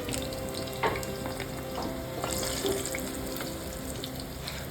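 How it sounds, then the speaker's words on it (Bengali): Chital fish balls fry in hot oil, their dense, continuous sizzle and crackle filling the sound up close and steady throughout, with no voices. "একদম হালকা লালচে করে আমি মাছের মুঠাগুলো ভেজে নেব"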